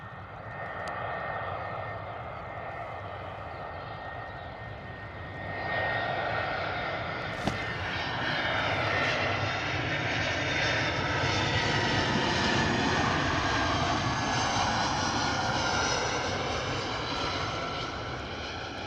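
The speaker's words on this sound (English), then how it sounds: "our Ryanair sounds like it's on the move as well. Power being set on those engines a bit more." Engines of a Ryanair airliner spool up at Bristol Airport, a broad roar that steps louder partway through and then holds as a sustained, rising whine at a moderate distance.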